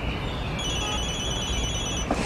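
A mobile phone rings with a steady electronic ringtone, a continuous bright tone held over background room noise, fairly close and loud, with a small rustle near the end and no speech.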